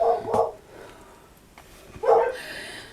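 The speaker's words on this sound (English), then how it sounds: "the dogs are barking" Dogs bark in a home, two short bursts of barking about two seconds apart, moderately loud and slightly distant.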